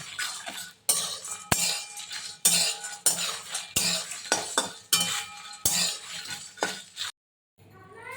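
Whole spices, black pepper, cloves and coriander seeds, are stirred in a dry pan, with a series of sharp metal spoon scrapes and clinks in an irregular rhythm, close up, then a brief silence near the end.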